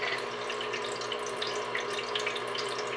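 A steady stream of water pours and trickles continuously from a lighted party drink fountain, close by and even in level, with no talking.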